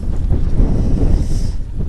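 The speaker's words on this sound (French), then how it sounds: "il y a beaucoup de vent" Strong wind buffets the microphone in heavy, continuous low gusts, roaring loudly throughout.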